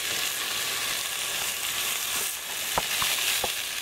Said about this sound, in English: I'm browning up some meat